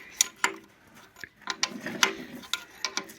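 Metal clicks and ratcheting knocks from a wrench loosening a fitting on a new tiller, several sharp irregular taps up close with no talk.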